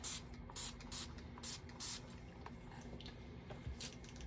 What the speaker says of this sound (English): we'll just spray each coaster.